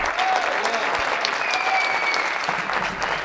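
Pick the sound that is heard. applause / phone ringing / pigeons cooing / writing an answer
applause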